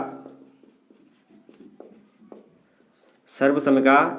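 Chalk or marker strokes on a classroom board as a maths identity is written out, a series of short scratchy taps and scrapes at an irregular pace, close and quiet, followed by a teacher's voice speaking.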